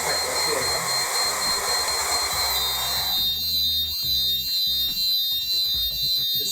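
A fire alarm system responds after heat is applied to a Pearl fire detector, first with a loud hissing blower-like noise, then with a steady sounder pattern of rapid repeating electronic pulses, close and loud.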